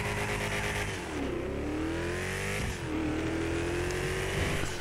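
Engine of the Albany Franken Stange, a classic muscle car in a video game, droning steadily while driving, with its pitch dipping and climbing again as it shifts and accelerates, loud and close.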